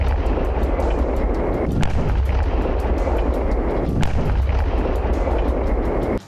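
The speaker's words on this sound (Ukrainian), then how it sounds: "У бій вступають рапіри, 100-міліметрові протитанкові гармати." Rapira 100 mm anti-tank guns firing in combat, loud continuous rumbling with repeated sharp booming reports cutting through a dense roar of battle noise, no voices.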